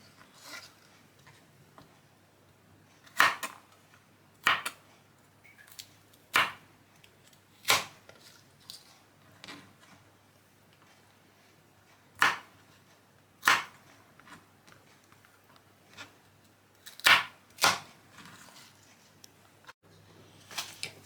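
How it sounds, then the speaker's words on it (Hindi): A knife chops okra on a cutting board for bhindi masala, sharp isolated taps spaced a second or more apart, sometimes in quick pairs, fairly close against a quiet background. "ऐसे ही सारी भिंडी को काट लेंगे।"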